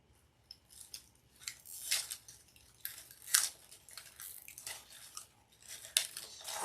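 A plastic zip tie ratcheted tight around a grapevine wreath while making a fall berry wreath, a quiet series of close, crisp clicking zips in irregular bursts.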